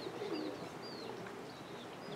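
Roller pigeons cooing near a kit box outdoors, soft low coos with a few faint higher chirps from other birds, quiet and close, with no talking.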